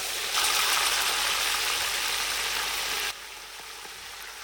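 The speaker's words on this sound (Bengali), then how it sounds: "তারপর মাংসগুলো দিয়ে দিচ্ছি এখন মাংসগুলো ভালো করে ভেজে নেব" Beef pieces frying in mustard and soybean oil with salt and bay leaves, a loud dense sizzle that jumps in as the meat hits the pan, then drops to a softer steady hiss.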